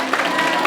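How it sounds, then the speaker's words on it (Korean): Audience applause at a Sunday lecture session, a brief steady patter of many hands clapping together, moderately loud and filling the whole moment. "질문해 주신 분 박수 한 번 더 보내겠습니다"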